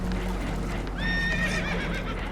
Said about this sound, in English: Horses are spooked, and we're taking on water.